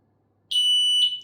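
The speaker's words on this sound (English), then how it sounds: "You see, beep, and then a long one." A short high electronic beep followed almost immediately by a longer sustained tone as a KOVIX Steel Thunder bike lock alarm arms, clear and close, with no talking.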